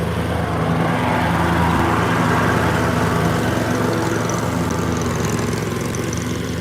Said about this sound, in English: Here comes the lawnmower.